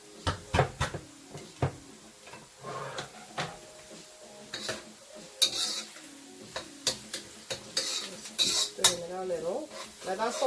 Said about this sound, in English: Let that saute for like 2 or 3 minutes.